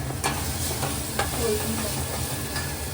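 Prawn curry simmers and sizzles in a pan after masala paste goes in, a loud steady frying hiss broken by scraping stirs of a spoon against the pan.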